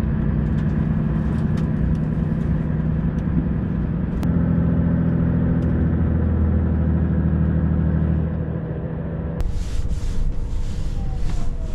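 Volvo FH540 truck driving along a road in Norway, heard from the cab: a steady, loud diesel engine drone with road rumble throughout, shifting slightly in pitch midway, with a brief knock near the end.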